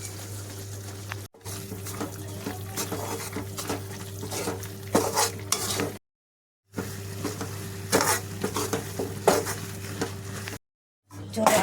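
Jaggery stirred into hot ghee in a home kitchen, giving a crackling sizzle with clinks and scrapes of a spoon against the pot, cut by short silent gaps between stretches.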